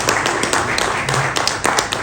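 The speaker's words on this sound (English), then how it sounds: "A round of applause for him as well for what he did." Audience applause at an event with badminton player Saina Nehwal, brief scattered claps over a busy room murmur.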